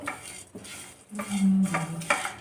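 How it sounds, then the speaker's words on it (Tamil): Cashew nuts are dry-roasted and stirred in a pan while making an egg curry, giving close scraping, rattling and clinking sounds with a brief faint sizzle and no talk. "இது வாசனை வர விட்டு நல்லா சவக்கமாக கொஞ்சம் வறுத்துக்குருவோம்"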